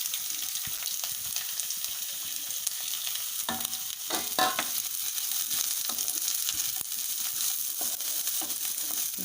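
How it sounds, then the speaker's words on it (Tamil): Garlic, ginger and large onion sauté in oil for a village-style chicken curry, a steady close sizzle punctuated by scraping stirs and a few clinks, with no voice. "பூண்டு, இஞ்சி, பெரிய வெங்காயம் இதையெல்லாம் நல்லா சிவக்க வதக்கிக்கலாங்க"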